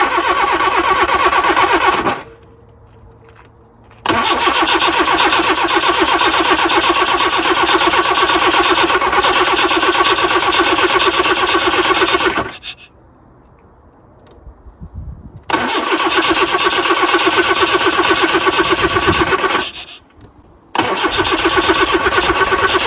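Lotus Elan +2 after a distributor swap cranks and runs loudly in repeated attempts, each a long steady stretch of buzzing engine noise broken by short quiet pauses, close and uninterrupted by talk.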